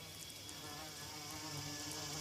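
Orchid bees buzz steadily as a soft, continuous insect drone throughout, faint and with no voices over it.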